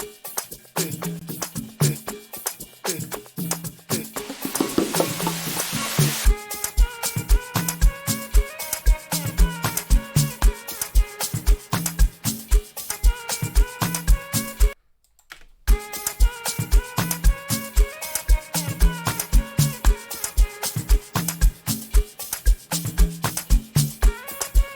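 Amapiano beat with hummed vocals transformed into instrument tones, a steady, driving rhythm of punchy percussion hits and log-drum-like bass under melodic tones, loud throughout with a brief dropout near the middle.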